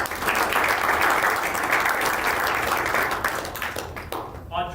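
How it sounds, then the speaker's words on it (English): Audience applause at a school board meeting honoring student athletes, a steady wash of clapping from a seated crowd lasting several seconds before tapering off, with faint voices mixed in. "so clap it up"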